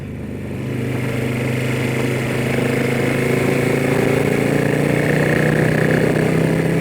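A Harley-style motorcycle fitted with a ThunderMax ECU holds a steady, loud engine drone at around 3,000 RPM while being ridden through a turn, rising slightly in pitch with a continuous rumble and wind noise.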